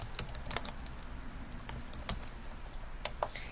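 Quiet, close typing on a computer keyboard, a few scattered key clicks with small pauses between them and no voices.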